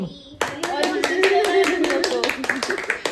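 A small group claps by hand at a midnight anniversary surprise, a quick run of sharp, close claps with a steady rhythm, beginning after a brief voice and continuing under scattered talk.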